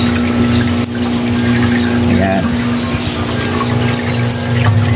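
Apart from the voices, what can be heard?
water pump refilling crayfish tank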